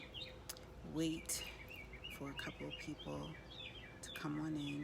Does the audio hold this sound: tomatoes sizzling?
no